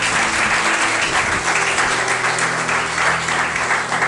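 A church congregation applauds during a sermon, loud sustained crowd clapping with a low hum underneath, continuous throughout with no talk.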